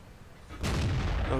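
A single tank cannon shot in World of Tanks, fired from a T32 heavy tank: a sudden loud boom that cuts in partway through and rolls on as a long, heavy rumbling tail.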